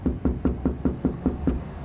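Eight evenly spaced knocks rap on a house door in a quick, steady rhythm, close and fairly loud, with no voices over them.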